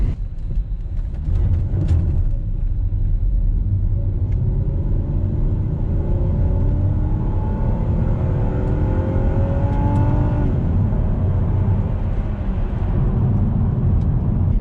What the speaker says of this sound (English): unleash all of those 6 cylinders to create that trademark Volvo howl